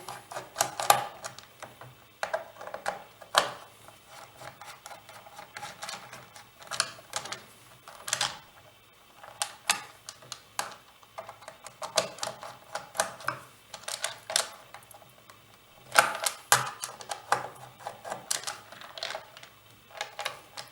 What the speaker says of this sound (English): So remove the two diagonal screws.